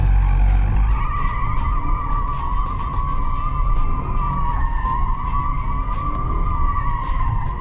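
Maserati Ghibli Trofeo tyres squeal in a long, loud, continuous skid, the pitch steady with slight wavering, the car's engine rumbling beneath it throughout.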